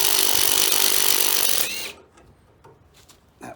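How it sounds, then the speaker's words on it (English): A loud, continuous impact-wrench burst loosens the lock nut on the top of a rear sway bar drop link on a Mercedes W163 ML, running for about two seconds before cutting off, followed by faint clinks and small handling noises. "I'm gonna use the impact on the top one and hold the bottom."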